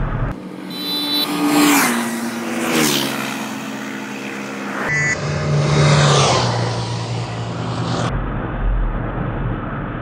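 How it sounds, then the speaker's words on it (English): A 2015 Kawasaki Z1000 ridden at speed, its air intake roaring and howling through repeated rises in revs and gear changes, loud and close over wind noise. "have you noticed those sounds of the air intake?"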